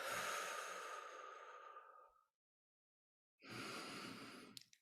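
Slow, deep breaths taken by a person during a guided meditation, a long airy exhale of about two seconds, a quiet pause, then another drawn breath, close and soft, with no talking.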